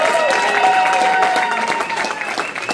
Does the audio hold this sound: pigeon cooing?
no